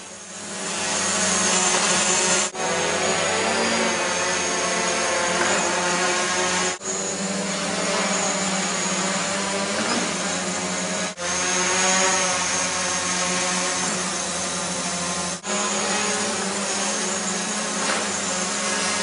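Several small quadrotor drones fly while placing building parts for a robotic construction demonstration, a loud continuous high whirring buzz with brief dips every few seconds, with no speech.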